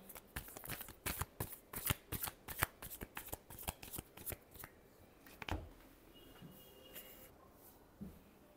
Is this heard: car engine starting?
no